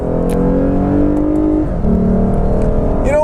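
A 2015 Lexus RC 350 F Sport engine accelerates hard, heard loud and close from inside the car. The tone climbs steadily, dips briefly at a shift, then climbs again.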